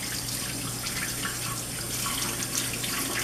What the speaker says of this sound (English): we'll use cold water, rinse them off